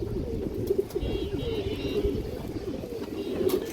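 Female pigeons at a Bengali pigeon seller's loft, soft low cooing running steadily at moderate level, with faint bird chirps above and a little background murmur.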